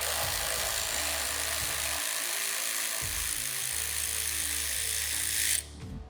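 A socket tool loosens the bar mounting hardware on a Can-Am Defender side-by-side, giving a close, whirring mechanical drone with short pauses before it stops abruptly near the end.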